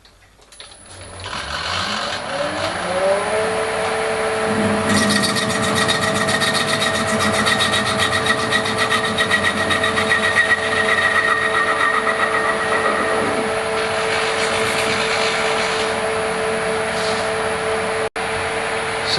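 A metal lathe faces off a piece of 25mm brass: the motor spools up over the first couple of seconds, then a steady whining hum with a rough scraping cut runs on continuously, close and loud.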